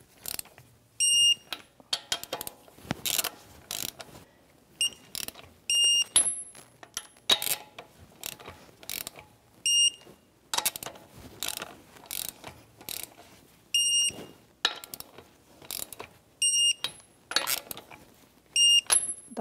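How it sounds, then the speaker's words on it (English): A torque wrench tightens 21 mm lug nuts on the alloy wheel of a 2010–2023 Toyota 4Runner with repeated ratcheting bursts. Sharp, high click-beeps sound as each nut reaches torque, spaced at intervals over the whole stretch. "So now we can torque our wheel with our 21 millimeter socket."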